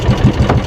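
The small motor of a river boat runs with a rapid, loud, close chugging throb for a brief moment.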